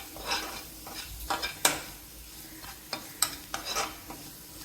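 A spoon stirs fried vegetables and spices in a pan, producing repeated scraping and clinking strokes over a soft sizzle, close and moderately loud.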